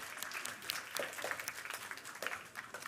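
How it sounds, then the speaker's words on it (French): Audience applause at a French health-industry round-table event, a fairly quiet, scattered clapping from a modest crowd with individual claps audible, brief and somewhat distant. "On peut les applaudir."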